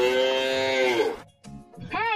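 Cartoon yellow cow giving a long, drawn-out moo, loud and close, followed by short lower grunts and a brief rising second moo at the end.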